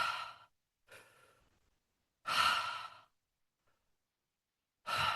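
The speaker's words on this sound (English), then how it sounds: "take a few deep breaths in and out" Slow, deep breaths in and out, heard close and soft as several long airy sighs separated by silent pauses, with no talk.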